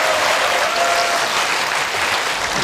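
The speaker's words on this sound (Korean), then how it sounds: "정말 소중한 분들한테 마지막으로 저도 여러분들도 같이 존중의 박수 보내겠습니다" A lecture-hall audience claps together at the close of a talk, a loud, dense, continuous wash of applause sounding close and filling the room, with no voices over it.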